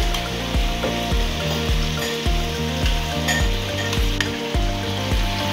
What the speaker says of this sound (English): I'm going to add a little bit of the onion.